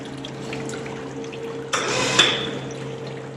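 Water drains out of a brewing vessel at a small brewery as a steady, fairly loud rush over a constant low hum, with a sudden louder splash surge partway through.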